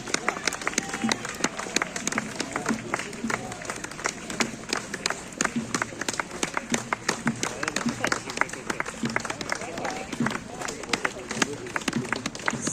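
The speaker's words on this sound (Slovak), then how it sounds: "Neprestávajte im tlieskať, sú tu preto, zbožňujú potlesk." Applause from an audience at a reenactment of the battle for Bratislava, a sustained crowd of clapping hands outdoors, dense and steady throughout, with a voice speaking over it.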